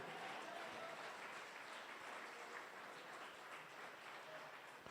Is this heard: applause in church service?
yes